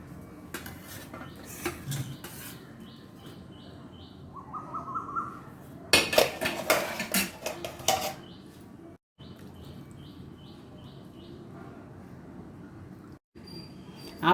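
Appam cooked in an appam pan, with intermittent metal clanks and scrapes of utensils against the pan over a low kitchen background, and a bird-like chirping pattern repeating faintly.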